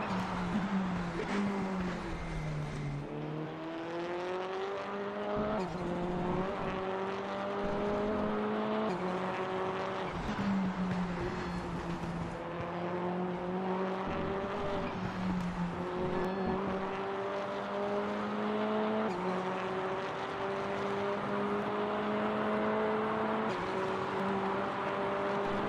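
Onboard engine of an F4 race car in a sim racing game at Hockenheim, a loud continuous whine that climbs and drops sharply through repeated gear shifts and braking for corners, alone without talk.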